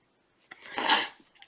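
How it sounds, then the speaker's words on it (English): A single close sneeze breaks the quiet, a short sharp intake followed by a loud burst that fades into a breathy trail, with small rustles on either side. "Hey, I gotta sneeze. Excuse me."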